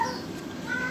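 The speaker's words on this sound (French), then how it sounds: "Il y a un chat." A cat meows once, close and fairly soft, a short tonal call standing alone over quiet background hiss.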